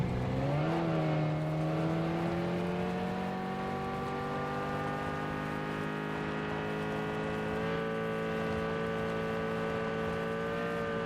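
A vehicle drives in PUBG with a steady, loud engine drone that rises in pitch as it accelerates near the start, then holds an even cruising hum throughout, close and with no talk over it.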